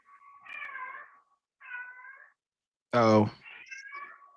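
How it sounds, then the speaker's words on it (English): A house cat meows several times in drawn-out, wavering calls, ending in a louder, harsher yowl, with a brief spoken exclamation in between. "is that a cat?"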